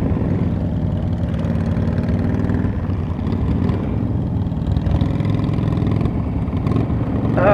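A motorcycle engine idles steadily and loudly close by, a continuous low rumble with no voices.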